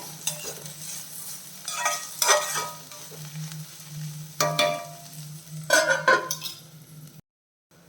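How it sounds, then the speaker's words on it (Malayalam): Bitter gourd sautés in a pan on a lowered flame, with a steady soft sizzle broken by repeated scraping stirs, several bursts of stirring followed by a brief silence at the end. "ഫ്ലെയിം കുറച്ച് വെച്ച് ഒന്ന് വഴറ്റിയെടുക്കണം"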